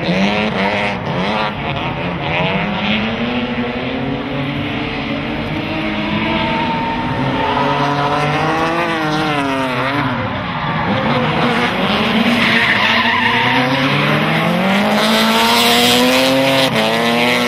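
BMW M3 E36 making 380 hp, drifting with its tires skidding: a loud, sustained engine wail rising and falling under long howling tire squeal, steady and close throughout.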